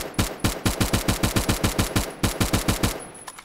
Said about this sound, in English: Oh, I have AS4 now. I have two guns. I have two primaries. Let's just shoot this on safe.